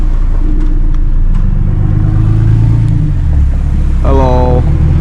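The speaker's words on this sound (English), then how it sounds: "With the exhaust on, let's go for a drive." An Infiniti Q50 with the VR30 engine and a valved exhaust pulls away with a deep, loud rumble, then rises into a clear revving climb toward the end.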